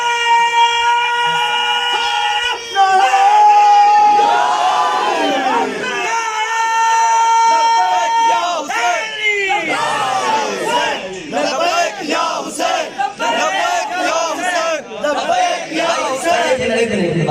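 A large crowd at a Shia religious gathering chants slogans back in loud, massed unison, voices swelling and overlapping in waves for the whole stretch, with a lead voice and sustained cries rising above.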